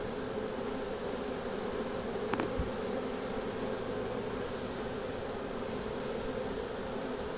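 A swarm of honeybees gives off a steady, faint buzzing hum that keeps an even drone the whole way through, broken by one brief click near the middle.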